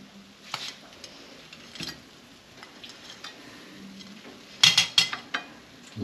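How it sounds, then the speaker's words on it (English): Prawns go into a pan with garlic butter for a rice and salad dish, producing clattering utensil knocks and metallic clinks, a cluster of louder bangs near the end over faint background sizzle. "Put our prawns on."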